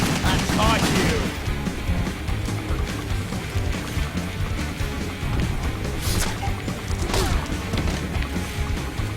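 Dense, loud gunfire from the shooter video game WET fills the whole stretch, with sharp bursts over a continuous din of game music and effects.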